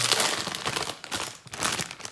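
A large plastic Lego parts bag is torn open, giving dense crinkling and rustling that runs steadily for about two seconds with a brief dip midway, close and fairly loud.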